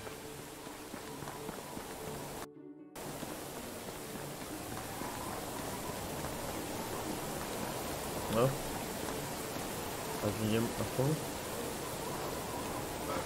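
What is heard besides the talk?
rain in the video game Medieval Dynasty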